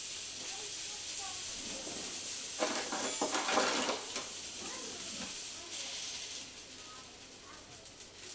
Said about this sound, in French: notre thon pané aux graines de sésame blond est en train de terminer de cuire